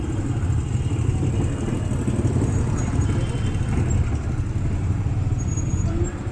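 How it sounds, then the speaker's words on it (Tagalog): Motorela motorcycle taxis and other traffic pass near Carmen Bridge in Cagayan de Oro City, Philippines, making a steady, continuous engine rumble and road noise that stays fairly loud throughout with no clear gaps. "Ano yung mga sakyanan dito sa Cagayan, mga motorila."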